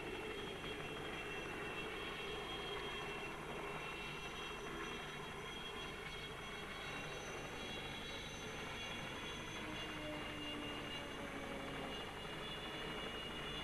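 A continuous helicopter drone heard from inside the helicopter over the Nürburgring Nordschleife during the 1975 Formula 1 race, with a steady rotor and engine hum, close and unchanging, with no talking.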